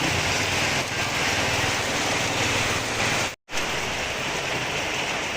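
Heavy rain pouring steadily on an outdoor farm, a loud, dense, unbroken hiss of drops that fills the whole clip, interrupted only by one brief dropout of silence partway through.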